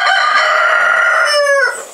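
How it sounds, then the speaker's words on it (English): Several roosters crowing at once, long, loud, overlapping crows close by in a farmyard, fading at the end. "Just being dive-bombed by another rooster on the way out, and they're all deciding to crow at the same time."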